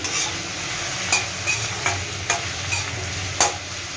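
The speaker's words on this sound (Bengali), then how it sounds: "আমি রসুনটা পেঁয়াজটা দিয়ে দিয়েছি, ভাজা হয়ে গেছে।" Garlic and onion fry in a pan with a steady sizzle, broken by regular scraping stirs with a utensil, close and continuous with no talk.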